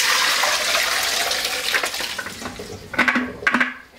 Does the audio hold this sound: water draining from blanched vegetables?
yes